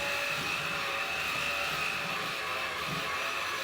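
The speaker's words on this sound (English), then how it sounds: "So next, I'm actually going to vacuum these pieces very quickly." A vacuum cleaner runs with a steady, continuous broadband roar as it picks up small pieces after a cat product is assembled, holding evenly throughout with no talking.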